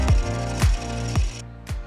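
A woodturning tool scrapes a spinning piece on a lathe as its bottom is flattened, with four rhythmic bursts of cutting over the steady motor hum.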